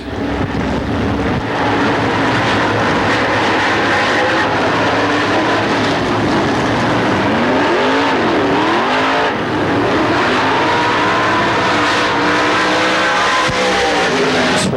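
A 1997 race car on a qualifying lap roars loudly past, engine whine rising and falling as it sweeps by, with a pronounced pitch bend through the pass, continuous and close with no talk.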